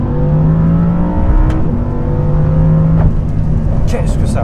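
An Audi R8 V10+ engine revs hard and sustained near 5000 rpm, a loud, continuous roar of steady harmonics with slight pitch shifts, heard from inside the car.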